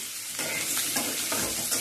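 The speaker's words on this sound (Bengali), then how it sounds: "দিয়ে একবার নেড়ে চেড়ে নিলাম।" Fried potatoes with bay leaf and dried red chilli stirred in a pan for a Bengali sajna flower alu posto: after a brief quiet start, a loud close sizzle rises with a few sweeping stirring strokes, and no one speaks.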